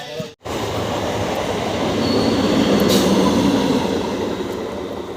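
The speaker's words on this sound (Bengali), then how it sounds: "ট্রেন ধীরে ধীরে কাছে আসছে" A train rolls slowly toward a station beside a puja pandal, a steady broad rumble swelling gradually in loudness and holding close, with faint wheel squeal and no talk.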